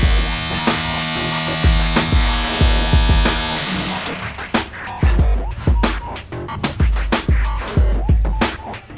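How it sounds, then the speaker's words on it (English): Pneumatic hammer pounding seized steel pins on an old steel ship under restoration, delivering loud repeated impacts in irregular bursts with metallic ringing, close and alone. "Take this, a pneumatic hammer."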